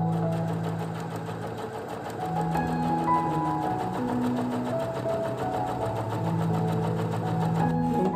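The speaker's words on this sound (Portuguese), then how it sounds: "eu vou fazer a primeira costura sem dar retrocesso" A sewing machine runs a first straight seam on a ruffled fabric placemat. It gives a steady close whirring hum with a fast mechanical stitching chatter and slight shifts in speed, alone without talk.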